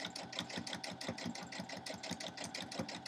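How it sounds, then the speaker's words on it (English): A sewing machine stitches quilt pieces in a rapid, steady mechanical chatter of needle strokes, close and continuous, with no voices over it. "now it started stitching in a zigzag, and I did not want the zigzag pattern"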